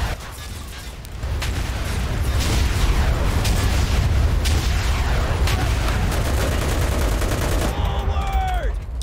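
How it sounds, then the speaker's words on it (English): Machine gun fire in a D-Day Normandy invasion battle of the Enlisted video game rattles as sustained, dense bursts of rapid shots with booming artillery underneath. A voice speaks briefly near the end. "He was literally using my own machine gun, I think."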